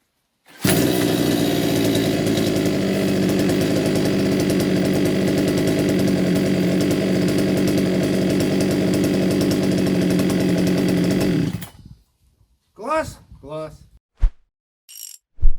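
A petrol string trimmer, running again after a broken spark plug cap wire was fixed, roars loud and steady for about eleven seconds, then cuts off abruptly, leaving a few brief knocks and handling sounds.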